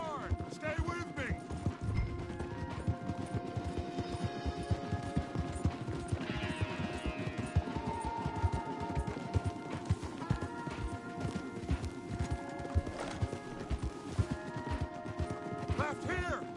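Horses gallop in Red Dead Redemption 2, their hooves drumming in a fast, continuous clatter under game music and voices.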